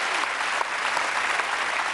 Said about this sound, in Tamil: ஆல்வேஸ் ஒரு வாட்டி நல்லா கை தட்டிடுங்க.